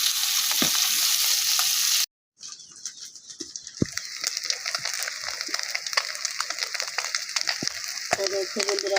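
Freshly netted fish frying in a pan in a Bangladeshi village kitchen, with a loud steady sizzle, a brief cut to near silence, then crackling spatter and faint clatter, close by.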